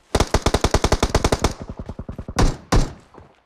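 A fast, even burst of automatic gunfire rings out loudly in PUBG Mobile, followed by a few slower, heavier single shots.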